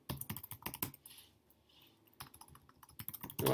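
Keys clatter on a computer keyboard in quick bursts of close, crisp clicks, with a brief pause in the middle before the typing starts again.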